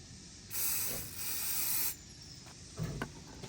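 A cleaner and polish spray is sprayed onto a microfiber towel while cleaning a Honda Rebel 500 motorcycle chain: two close, loud hissing bursts, one short and one longer, followed by faint handling clicks.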